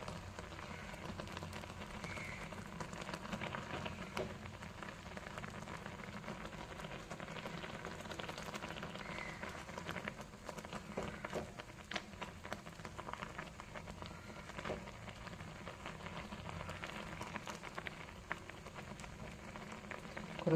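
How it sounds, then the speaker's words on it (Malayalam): Rice water boils and reduces in a pot on the stove, giving a faint, even, continuous bubbling simmer with no one talking. "ഇനി നല്ലപോലെ ഒന്ന് തിളച്ച് ഒന്ന് പകുതിയായി വരട്ടെ"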